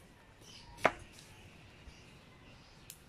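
A knife strikes a cutting board while onions are chopped for a mung bean dish: one sharp close chop, then a couple of faint softer taps over a quiet background.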